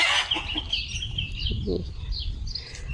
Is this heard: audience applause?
no